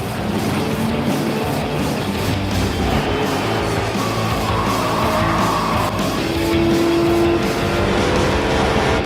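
A Hemi engine roars loud and steady in a racing setting, with a dense, continuous engine note that holds at full volume and rises slightly toward the end.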